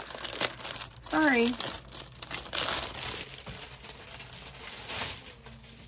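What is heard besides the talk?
crinkling packaging being opened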